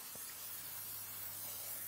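Nonstick cooking spray hisses steadily onto a pizza pan, a continuous broadband spray lasting about two seconds at close range with no talking.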